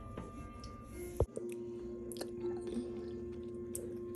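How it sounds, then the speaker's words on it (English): A child eating vegan mac and cheese sprinkled with cayenne pepper: soft, close chewing and squishy mouth sounds with light clicks, a sharp knock about midway, a steady low hum underneath and no talking. "This boy is eating the cayenne as if it's nobody's business."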